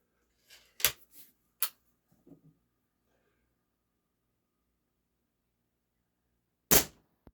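A Stoeger X20 S2 .22 caliber air rifle fires RWS Hypervelocity alloy pellets. Sharp, loud cracks come one at a time with long quiet gaps, and faint clicks and handling noises sound between shots.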